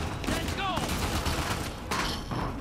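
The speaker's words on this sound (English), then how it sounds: "Oh, guy shooting us!" Enemy gunfire in the Uncharted 4 video game, a burst of shots under dense game noise and music, with a voice calling out near the start.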